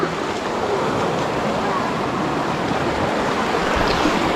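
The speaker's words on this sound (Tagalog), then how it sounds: "yung ilog dito" Constant rushing of flowing river water, full and steady throughout, with a faint breezy edge and no pauses.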